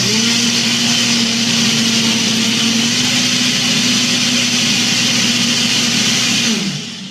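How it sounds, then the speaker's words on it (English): A countertop blender whirs loudly and steadily for about six and a half seconds, blending a Shakeology shake with frozen fruit, then spins down at the end; no one speaks. "So I'm just going to put this on my blender. Push start. It's going to get loud, guys."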